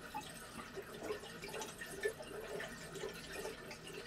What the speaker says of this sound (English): we had to open up the faucets in the house to drain the pressure off the tank